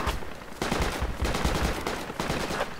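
Sustained automatic gunfire from the Project Reality military shooter, dense overlapping bursts of rifle and machine-gun shots rattling at close to mid range with no talk over them.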